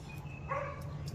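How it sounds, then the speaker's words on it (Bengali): A dog barks once at some distance, a short sharp woof over low steady background hum, with no one speaking. "অন্য কুকুর ডাকছে"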